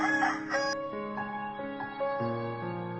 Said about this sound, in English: A rooster crows in the morning.